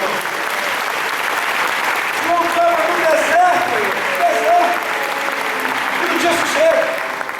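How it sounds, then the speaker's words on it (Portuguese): A church congregation at a morning service applauds steadily and fairly loudly, a continuous wash of clapping with scattered voices and cries mixed in. "Aplauda o Senhor e glorifique por isso."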